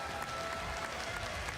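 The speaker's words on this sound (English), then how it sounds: "let's give him a big round of applause" Steady, dense applause from a crowd greeting the winner of a GT World race round, sustained and even for the whole short stretch with no voices standing out.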